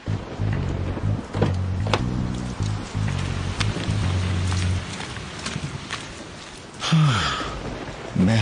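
Heavy rain pours steadily in an Urdu audio drama scene, a dense hiss layered with low musical tones and occasional thumps and swooshes.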